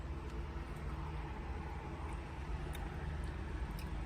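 Faint, steady traffic noise from passing cars, a low distant roadway rumble continuing without clear breaks or individual pass-bys.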